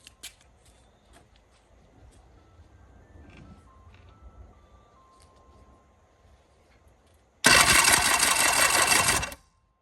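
A Force 120 HP outboard engine cranking over during a compression test: a quiet stretch with faint clicks, then a loud, even starter-driven whir lasting about two seconds that stops abruptly.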